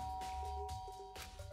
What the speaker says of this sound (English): I press the doorbell.